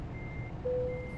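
A truck in American Truck Simulator reverses toward a trailer hitch, its steady engine rumble carrying a few spaced reversing beeps at moderate volume.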